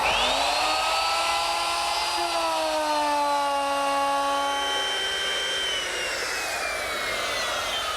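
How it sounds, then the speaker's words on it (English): An electric router fitted with a 3/4 inch radius bit shapes the front edge of a wooden rocking chair seat, giving a loud, continuous high whine whose pitch sags under load and recovers, with no talking. "Now here I'm using a 3/4 inch radius router bit to ease the front of the seat."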